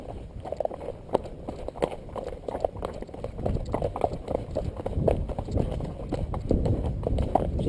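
A cob horse in training canters, its hooves giving a steady rhythmic clip-clop close by throughout, with faint background noise.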